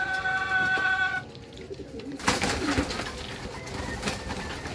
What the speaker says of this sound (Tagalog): Ayan mga kalapati, dinaanan lang nilang pagkain nila.